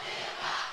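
A high school football student section in a pink-out cheers together, a brief, distant, sustained crowd roar swelling slightly midway.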